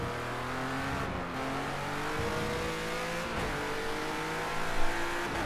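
A race car engine in a racing video game revs continuously, its pitch climbing and dropping through several gear shifts, loud and close with no voices.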